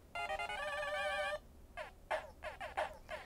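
Bright retro chiptune from the Mega Man video game plays through the Orion gaming display's built-in speakers: a sustained warbling synth note, then a run of short, choppy bleeps, all fairly quiet.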